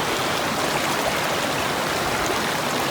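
Cold, icy mountain stream running through elk, deer and bear country, a steady broadband rush of flowing water, close and constant with no voices.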